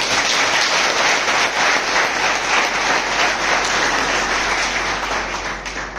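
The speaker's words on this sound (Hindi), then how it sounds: "एक बार जोरदार ताली अपनी लिए जाए" Loud, dense applause from a large audience at a health seminar in Guna, India, steady and unbroken throughout, with no talk over it.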